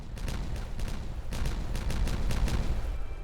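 Dynamite detonation in Timberborn, a dense rolling rumble of overlapping blasts and crackles that holds steady for a few seconds, loud and continuous with rapid sharp pops on top.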